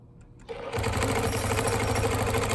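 A longarm quilting machine starts up after a brief quiet moment and runs steadily, its rapid mechanical stitching hum close and constant through the rest of the clip during diagonal crosshatching ruler work.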